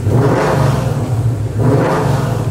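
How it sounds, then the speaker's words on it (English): A Coyote-swapped New Edge Mustang drift car engine revs up twice in close succession, a loud, steady mid-pitched roar swelling and easing with no talking. "Now the car sounds really right, revs nice."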